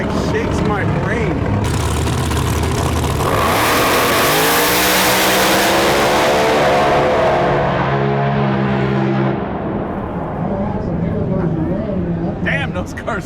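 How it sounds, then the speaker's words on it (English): Drag racing cars roar down the strip at a Street Outlaws No Prep Kings event, a loud engine howl building and climbing in pitch over several seconds before fading, with spectators talking throughout. "Damn, those cars are fast."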